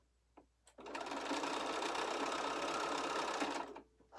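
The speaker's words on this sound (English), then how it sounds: "I'm going to stitch right down that edge" Sewing machine stitching quilt pieces along an edge with a quarter-inch seam, one continuous close whirring run of about three seconds with brief handling noises before and after.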